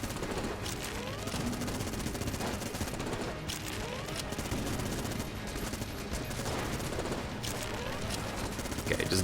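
Shotguns and other weapons fire in the Enter the Gungeon video game as a dense, continuous barrage of rapid pops and blasts under a busy layer of game effects, with no pauses through the stretch.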